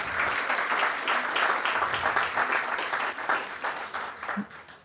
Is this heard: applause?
yes